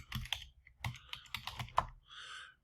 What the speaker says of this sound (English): it will not correct your typing for you, so your typing will have to be correct